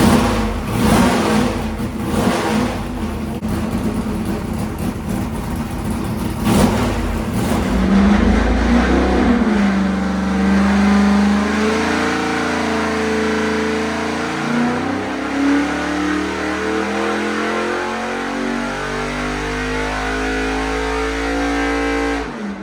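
An 11-to-1 compression 427 V8 in a Nova roars through a dyno pull, its pitch climbing steadily as the revs rise, then dropping back to a lower, rough drone, loud and close.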